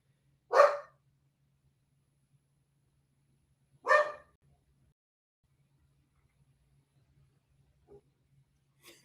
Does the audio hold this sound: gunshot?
no